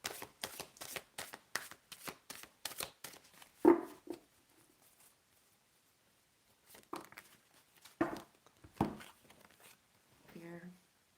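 Playing cards being shuffled in rapid crisp riffling bursts, close and fairly quiet, followed by a few scattered softer card sounds with a brief voice.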